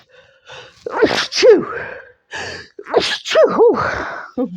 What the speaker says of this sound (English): have a sneeze.